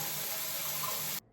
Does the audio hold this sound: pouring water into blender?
yes